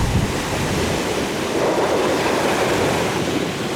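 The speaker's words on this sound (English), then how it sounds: "it's windy and choppy, so there's definitely more waves than normal" Choppy surf rolls in on a windy tropical island beach, with a steady wash of waves mixed with gusty wind buffeting the microphone and no voices.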